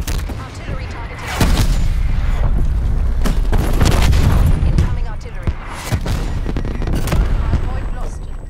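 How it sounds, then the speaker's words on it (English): Artillery strike in Call of Duty: Black Ops Cold War, a multiplayer match: loud, repeated booming impacts and crackling blasts over sustained rumbling battle noise, with a voice speaking amid the explosions. "Artillery targeted."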